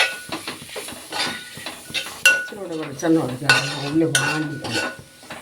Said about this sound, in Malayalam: മഞ്ഞൾപ്പൊടി ഇനി നന്നായിട്ട് ഇളക്കി കൊടുക്കാം